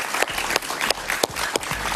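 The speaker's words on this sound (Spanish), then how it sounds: "Un aplauso para él" A studio audience at a Spanish-language television talk show bursts into steady applause for a stand-up comedian, a dense, close wash of clapping that holds for the whole stretch with a few sharper claps standing out.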